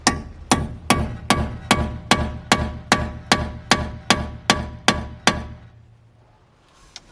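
Eleven evenly spaced metal-on-metal hammer blows ring out on the front brake caliper of a BMW F30, close and loud with short ringing decay, followed by a quiet pause and a faint knock.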